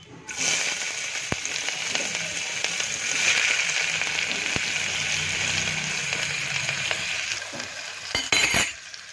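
Cumin seeds sizzling in hot oil inside a pressure cooker, a steady bright crackling sizzle with a few clinks, fading out at the end.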